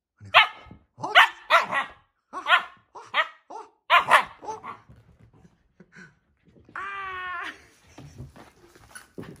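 Husky puppies on their first walk outdoors give a run of sharp, close barks and yips, with a drawn-out whine partway through, then a few faint sounds at the end.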